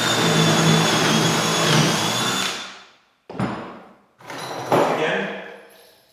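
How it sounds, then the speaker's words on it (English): A power drill bores a hole while a drop down davit mount is installed, one long steady whine that winds down, followed by two shorter bursts of drilling that each trail off. "And again, drill your hole."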